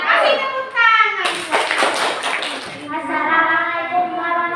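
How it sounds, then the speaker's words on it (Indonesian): A short burst of clapping breaks out between children's voices speaking or chanting together in a classroom. "Kasih tepuk tangan."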